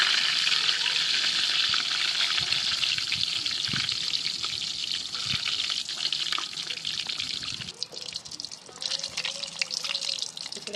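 Green chillies frying in a pan outdoors in a green garden setting, a steady dense sizzle with occasional stirring scrapes and crackles, continuous throughout.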